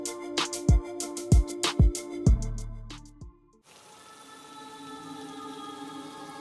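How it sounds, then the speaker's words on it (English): Cold night rain falls steadily after a series of sharp, resonant piano-like notes fade out, its even hiss continuing alone for the final few seconds. "They carried Edward out through the front door and into the cold rain"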